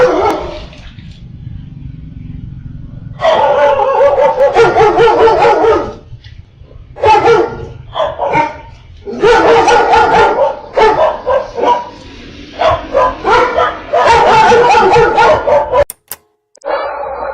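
Several loose dogs bark loudly and close by in repeated bursts of overlapping barks and yips, broken by short pauses.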